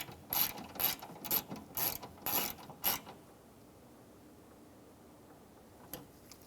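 A ratchet wrench clicks in quick, rhythmic bursts while tightening window regulator bolts on a 2014-2019 Toyota Highlander door, loud and close for about three seconds, then near quiet with one faint click.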